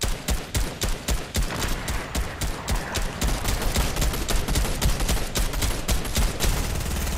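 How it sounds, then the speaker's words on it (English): Rapid, sustained gunfire in the video game Fortnite, a steady rhythmic stream of close, loud shots with sharp repeated cracks over a heavy rumbling background, continuous for several seconds. "We're getting shot at."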